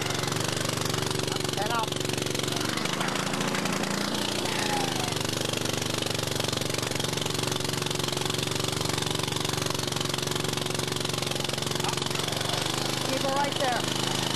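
A gas-powered post hole auger drills a fence post hole, its engine droning steadily and loudly close by while men call out short instructions over it.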